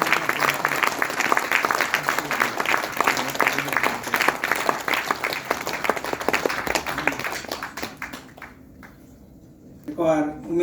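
An audience at a stage event gives dense, sustained applause for a speaker arriving on stage; the clapping fades out toward the end and a voice begins talking.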